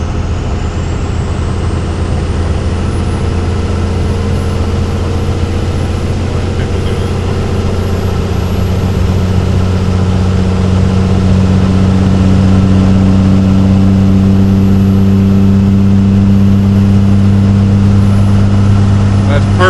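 A steady, loud car exhaust drone at 70 miles an hour, with a low humming tone holding constant under road and wind noise throughout.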